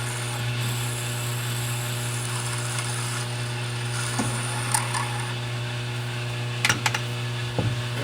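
Steady mechanical hum of a metal lathe running with a strong low drone, overlaid by occasional metallic clicks and scraping taps from tailstock tooling.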